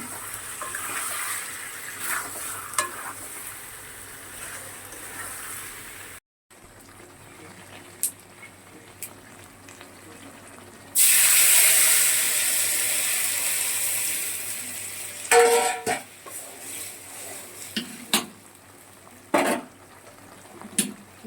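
Chicken cooking in a pan with Amul fresh cream, with metal spoon scrapes and clinks against the pan over a low simmer, plus a loud hissing sizzle partway through; intermittent and close.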